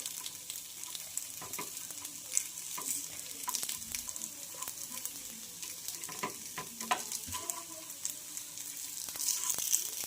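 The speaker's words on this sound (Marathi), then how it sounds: "आपले अप्पे परतल्या चाललेले आहेत आणि अशाच पद्धतीनं आपण सर्व आपे असे परतून घेऊया" Vegetable appe pan-frying with a steady, close sizzle and crackle while scattered scrapes and taps of turning them run throughout, with no talking.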